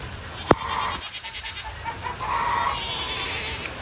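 Goats bleating on a homestead farm during a rainstorm, a few scattered calls over a steady wash of rain, with one sharp knock early on.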